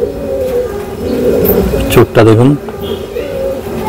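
A caged premium high-flying pigeon coos low and throaty beneath a man's close, steady talking, with a brief louder burst of cooing near the middle.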